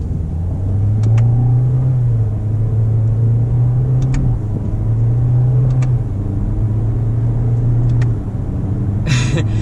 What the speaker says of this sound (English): the first gear launch, and then all these fake gears